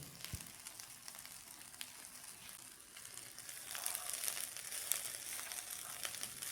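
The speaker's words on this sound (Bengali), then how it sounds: "এবার ঢেঁকির শাকগুলো দিয়ে দিচ্ছি।" Dheki shak greens tossed into a pan with eggplant already fried golden, sending up a steady crackling sizzle that swells louder partway through, with no voices.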